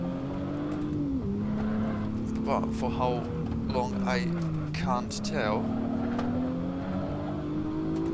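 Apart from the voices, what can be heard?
BMW M1 racing car engine revving on wintery Nordschleife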